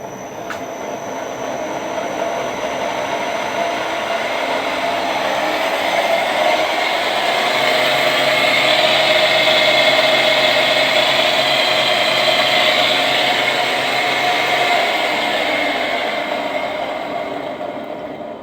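A 3 hp, 1350 RPM electric motor with worn-out bearings runs on a variable frequency drive, giving a loud, steady whine and hum that rises and settles over the whole stretch, with no talk.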